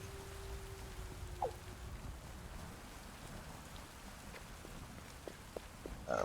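Steady rain falling in the factory-building video game Satisfactory, a constant broadband patter throughout, with a few brief sharper taps and a soft tone early on.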